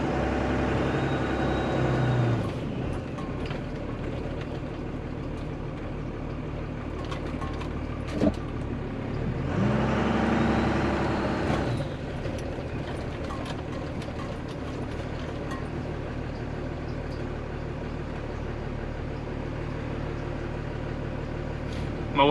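A Cummins diesel truck engine drives with no filter on the turbo, a steady low mechanical drone with clattering, ratcheting tones, swelling louder around the middle and running continuously, close and alone without talk.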